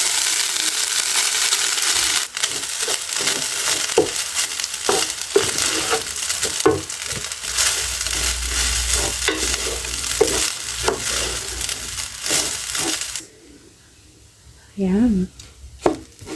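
Fried rice with egg and onion sizzles in a pan with a continuous hiss, while a utensil clicks and scrapes against the metal as it is stirred. Near the end the frying stops and a brief voice is heard.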